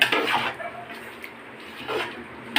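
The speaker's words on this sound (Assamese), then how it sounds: "এতিয়া বিৰিয়ানীটো এতিয়া অলপমান লৰাব লাগিব" Spoon scraping and clinking against a cooking pot while biryani is stirred, a few soft rattling strokes with quiet gaps between them, close and low in level.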